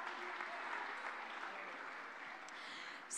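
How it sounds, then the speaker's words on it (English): A crowd in the Hillview College auditorium in Tunapuna gives steady, sustained applause at a PNM political gathering, an even, quiet wash of clapping heard from some distance. "Let us give the acting principal and the staff of Hillview College a round of applause."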